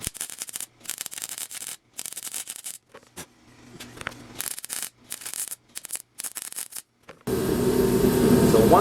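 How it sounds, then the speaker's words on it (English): Stitch welding on a metal plate for a battery toy car frame crackles in short repeated bursts separated by brief gaps, then gives way to a steady louder roar near the end. "I'm going to weld this up now."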